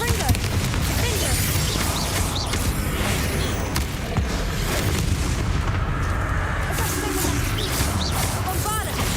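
Repeated booming fire-spell blasts from Confringo in the Hogwarts Legacy game, a dense, continuous barrage of explosive impacts mixed with other spell effects and voices throughout.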